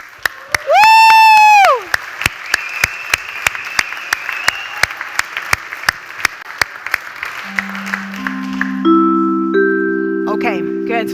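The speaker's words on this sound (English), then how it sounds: "1, 2, 3, let's clap." An audience at a closing ceremony applauds in a steady stream of separate claps. A loud whoop rises early, and synthesized tones and sustained notes come in toward the end.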